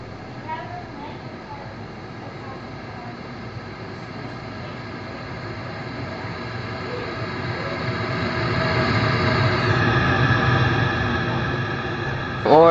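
A Hanger 9 FS One radio-controlled model jet coming in to land, its steady whooshing turbine roar building slightly louder toward the end and heard from a moderate distance outdoors.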